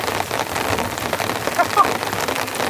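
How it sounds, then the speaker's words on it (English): Heavy torrential rain pours down on a tent at a campsite, a dense, constant hiss of drops drumming on the fabric, loud and close throughout. "Camping in the heavy rain."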